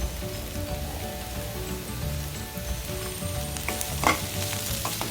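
Onions and curry leaves fry in hot oil for squid masala, a dense close sizzle with scraping stirs and a few sharper crackles, steady throughout and free of talk.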